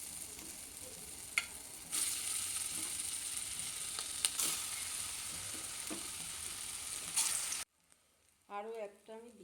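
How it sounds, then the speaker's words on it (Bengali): Jackfruit koftas fry in hot mustard oil over a medium gas flame, a loud, steady sizzle with a few pops, then a sudden stop and a short voice at the end. "এই কোপ্তাগুলোকে তেলের মধ্যে দিয়ে দেবো।"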